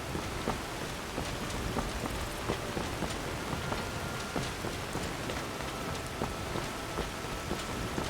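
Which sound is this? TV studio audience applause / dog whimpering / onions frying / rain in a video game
rain in a video game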